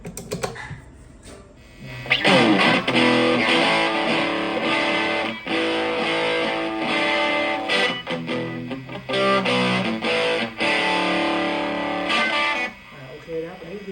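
A distorted electric guitar blares through an amp's high input, bright and harsh with a buzzy edge, strummed chords ringing steadily after a brief quiet start.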